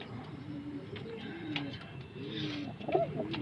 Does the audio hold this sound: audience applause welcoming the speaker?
no